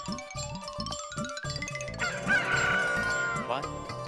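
A rooster crows in a scene from the TV comedy Taarak Mehta Ka Ooltah Chashmah, with honking calls and a drawn-out crow over background music.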